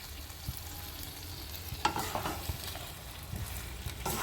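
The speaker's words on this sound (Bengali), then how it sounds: "মশলার সাথে সবজিগুলোকে ভালোভাবে মিশিয়ে নিচ্ছি।" Mixed vegetables stirred through spices while frying in a pan for a five-vegetable dish, a soft steady sizzle with scraping spoon strokes and a few sharper clinks, close by and fairly quiet, no talking.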